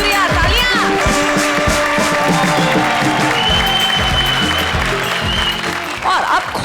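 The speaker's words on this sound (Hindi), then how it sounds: "तालियां" Loud, sustained clapping from a studio audience as a Hindi TV comedy show begins, with voices and music mixed in over the steady applause.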